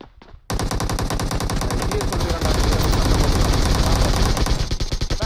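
Rapid automatic gunfire from a shooting video game blasts in dense, continuous bursts, loud and close, with intermittent shots layered over the steady stream.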